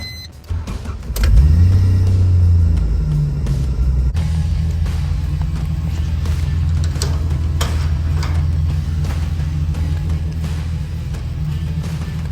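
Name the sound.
Toyota Hilux engine starting and revving after engine swap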